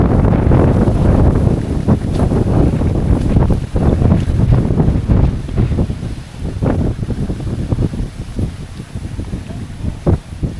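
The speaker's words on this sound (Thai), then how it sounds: "ลมแรงมากจ้า" Strong wind buffeting the microphone outdoors in rural Laos during shellfish gathering, a loud, continuous low roar with gusting thumps throughout, no clear speech.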